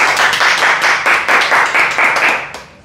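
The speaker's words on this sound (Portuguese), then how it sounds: "Receba mais uma vez as palmas do pessoal." A small family group claps for their grandmother Marina inside a home, a steady rhythmic clapping of several hands in close, loud bursts that fade out at the end.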